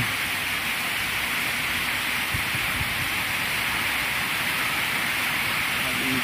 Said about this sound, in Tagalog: Ulan oh.